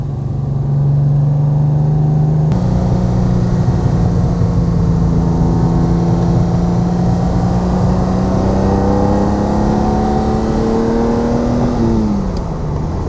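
A 1966 Ferrari 330 GTC with its V12 revs hard at high rpm, a loud sustained engine note climbing steadily in pitch with no talk, then dropping off as the throttle eases near the end.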